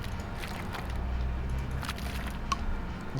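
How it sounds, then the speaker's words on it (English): A squishy, wet painting sound effect from the aquarium-building video game Megaquarium repeats in soft bursts over a steady low game ambience, with no talking. "paint sound in this game is so bizarre"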